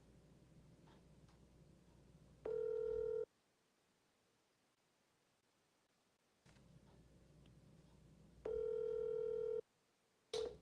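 Telephone ringing unanswered, two long electronic ring bursts separated by silence, with a quiet room tone beneath and a click at the end; no voices.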